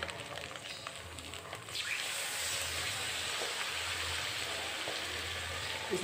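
Small whole fish (garai) frying in a pan for a spicy curry, giving a steady dense hiss and sizzle with faint crackles, close and continuous, swelling louder after the first couple of seconds with no voices.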